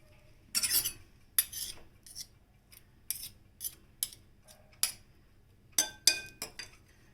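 Green plantain, cooked soft, is mashed in a pot, giving a series of sharp metallic clinks and taps from a utensil at an irregular pace, close and fairly quiet with no talk.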